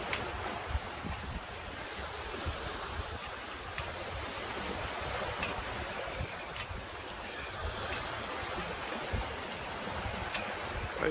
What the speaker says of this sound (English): the wind is definitely picking up now